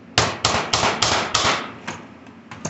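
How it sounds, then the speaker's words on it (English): A hammer striking a RAM stick into a computer motherboard slot, about eight sharp metallic knocks in quick, uneven succession, loud and close with no voices. "You should go get a RAM stick and hammer it in."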